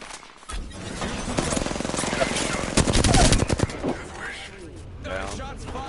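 Gunfire in the video game Apex Legends, dense rapid automatic bursts and sharp cracks building over several seconds, loud and close, with game voices and effects mixed in.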